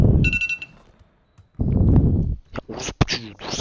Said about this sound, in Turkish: Okul alarmı çaldı